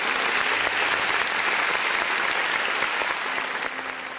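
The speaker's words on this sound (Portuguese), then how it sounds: "uma salva de palmas para Jesus" Church congregation applauding during a sermon, a dense, steady wash of clapping throughout that fades slightly at the end, with no voices over it.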